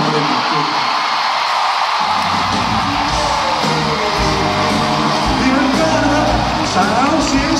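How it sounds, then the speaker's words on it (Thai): Crowd at a red-carpet celebrity event cheering and whooping to welcome a guest, loud and continuous with shouts and a busy background hum of voices. "ขอเสียงปรบมือต้อนรับ"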